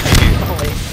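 Gunfire in Garry's Mod, a quick loud burst of shots with a boomy thud, packed into under a second, with a voice talking over it.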